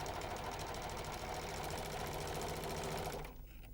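A Janome 6234XL overlocker stitches two layers of fabric and trims off the seam allowance, a steady fast mechanical whir and chatter running loud and even for about three seconds before cutting off abruptly.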